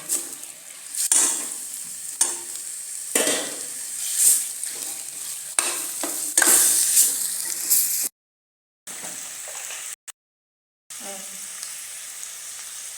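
Chicken fries in a pan with onion, ginger-garlic paste and ground spices, giving a steady, loud close sizzle. A spoon scrapes and stirs in regular strokes, and the sound cuts out briefly twice near the end.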